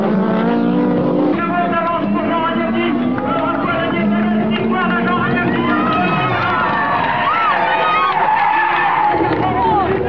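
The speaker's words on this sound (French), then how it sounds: "Jean Ragnotti se retrouve donc au volant d'une Renault 21 Turbo 4x4 et sur circuit" Renault 21 Turbo 4x4 race car driven by Jean Ragnotti on a circuit, tyres squealing in long wavering skids over a loud continuous engine roar, with crowd noise and voices mixed in throughout.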